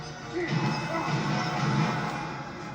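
Heavy ground smash impacts from Spyro in the video game Spyro A Hero's Tail, fought against Gnasty Gnorc: dense, loud thudding crashes with a rumbling low end, packed closely across the whole stretch.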